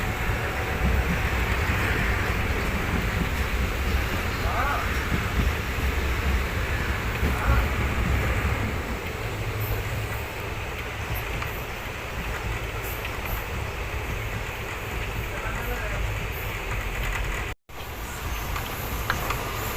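Gwalior to Bhopal intercity train in India, running near Myana station in Guna district. A steady, loud rolling rumble continues without a break, with one brief dropout near the end.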